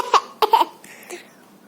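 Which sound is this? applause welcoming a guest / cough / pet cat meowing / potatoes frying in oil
cough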